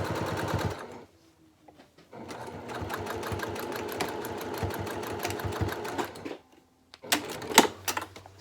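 A sewing machine runs in long, fairly quiet rattling bursts while sewing the side seam of a handbag lining, with short pauses and a few louder clicks near the end.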